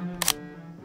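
A Nikon F3 film camera with an electronically controlled shutter fires once, a crisp, close mechanical click-clack lasting a fraction of a second over a steady low background hum.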